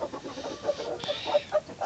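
Close-up cheeping of a chick with flamingo syndrome, a leg condition, short high peeps repeated in quick irregular bursts with soft handling noise, no talking.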